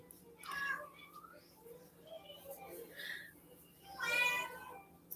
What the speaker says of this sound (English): Getting cussed out by my cat.